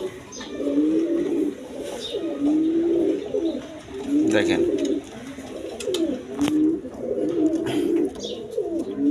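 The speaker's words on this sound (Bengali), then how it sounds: "এক পেয়ার ম্যাক পাই ডেনিশ কবুতর আছে" A pair of Danish magpie pigeons coo in repeated low rolling phrases, close and steady throughout, with someone speaking briefly between calls.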